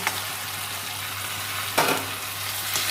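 Prawns fry in a pan with tomato and whole garlic, giving a steady close sizzle throughout, with a brief scrape of stirring partway through.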